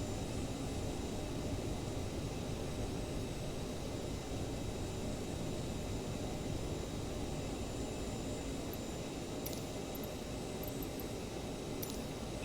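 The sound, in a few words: CRJ900 jet airliner taking off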